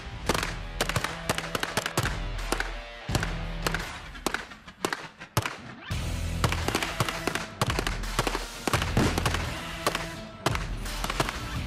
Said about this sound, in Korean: 뜨거운 땡볕 아래 끊임없이 다양한 방법으로 사격 연습을 하는 대원들